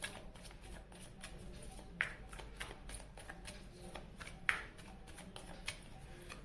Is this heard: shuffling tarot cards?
yes